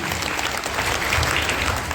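A steady wash of clapping from an audience gathered at a village cow shelter (gaushala) cultural event, loud and continuous with no pauses.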